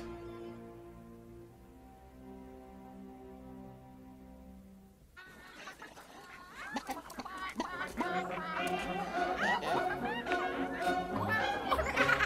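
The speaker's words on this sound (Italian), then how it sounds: "Con queste stupide galline." Chickens cluck close by, a busy overlapping chatter of short calls that builds in the second half, after a held musical tone fades out, with a voice speaking over it.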